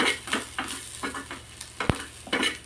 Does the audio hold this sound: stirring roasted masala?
yes